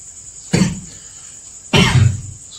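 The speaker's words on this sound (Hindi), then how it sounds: "बार बार खांसी आ रही है" A person indoors coughs twice, each a loud, harsh burst close to the microphone, separated by about a second of quiet room tone.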